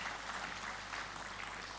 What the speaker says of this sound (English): Round of applause for such an insightful session.